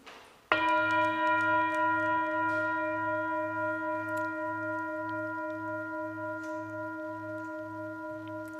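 A single bell is struck once during a Sunday church service, a close, loud strike whose bright ringing tone sustains and slowly decays over several seconds, alone without talk.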